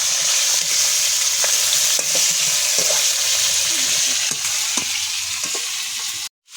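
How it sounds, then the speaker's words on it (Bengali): Catla fish head frying in oil in a pan, a dense continuous sizzle with scattered pops and stirring clicks, fairly close, ending in a brief cut of silence. "এখন মাথাটা ভাজা হচ্ছে, কাতলা মাছের মাথা।"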